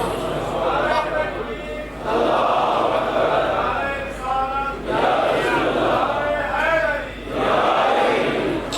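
A crowd at a religious majlis gathering in Sargodha shouts slogan responses in repeated, rhythmic voiced bursts separated by short pauses, loud and reverberant.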